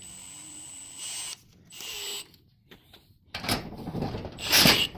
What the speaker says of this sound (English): We can drill right through the top with a smaller bit and get all the pins.